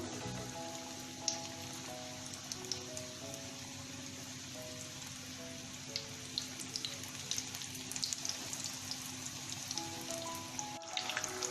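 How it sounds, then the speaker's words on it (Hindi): Chicken pieces fry in a pan over low heat with a constant soft sizzle and scattered small pops and crackles throughout, no voices heard. "इसको हम लो हीट पे ही कुक करेंगे, फ्राई करेंगे पूरे को।"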